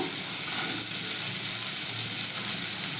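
Sliced carrot goes into a pan of frying garlic for a restaurant-style chicken soup, a steady close hiss of sizzling oil running unbroken throughout.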